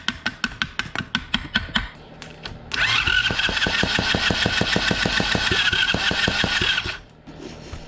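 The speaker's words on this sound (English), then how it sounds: "We're just gonna keep tapping the starter because me pulling it apart appears to have caused some issues here." A starter motor on a GIO engine cranks in rapid, even pulses for a few seconds, then the engine briefly catches into a loud, steady running roar before cutting out. The sound is close and loud.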